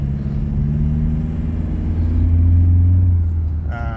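Toyota Innova Reborn with a remapped turbo engine accelerating, a loud close engine drone climbing steadily in pitch and then easing off, ending with a brief beeping tone.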